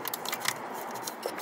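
A small clip being pulled off the mechatronic breather on a DSG seven-speed gearbox: a short close plastic snip-and-click, brief and crisp, heard alone.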